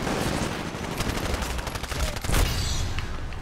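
Turrets in the Titanfall video game fire sustained bursts of rapid gunfire, a dense, loud clatter of shots and impacts with a sharper crack near the middle, no talk over it.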